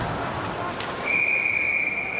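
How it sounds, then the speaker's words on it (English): A referee's whistle at an ice hockey game between Hong Kong, China and Luxembourg cuts through arena crowd noise, a single sustained shrill blast starting midway and holding to the end. "Now we have a whistle."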